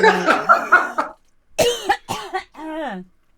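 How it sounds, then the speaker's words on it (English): Someone chokes on coffee and breaks into a run of harsh, voiced coughs, pauses briefly, then coughs a few more times and ends with a drawn-out, rasping throat clear. "I'm just coughing on my coffee."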